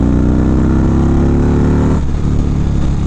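A 2019 Indian Chieftain motorcycle accelerates on a test ride, its engine a loud, steady, close drone with a strong low rumble that shifts character partway through as the throttle changes.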